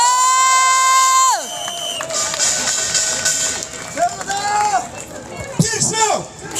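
A crowd at a Marine Corps veterans' rally cheers and claps to welcome a veteran senior Marine onto the stage. A descending tonal sweep plays at the start, then loud, rolling shouts and applause with babbling voices follow throughout.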